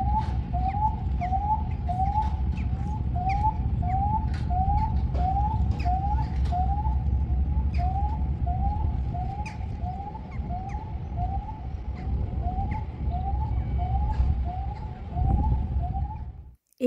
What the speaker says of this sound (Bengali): এই ব্রিজটা হচ্ছে আপনার যতবার উঠাবে এবং নামাবে এরকম সাউন্ড হতে থাকে